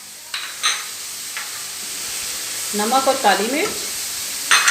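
Vegetables, green onions and chicken are stirred in a pan for white sauce pasta, with soft scraping strokes and a light sizzle under a woman's speech.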